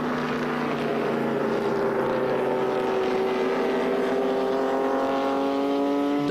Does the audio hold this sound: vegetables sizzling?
no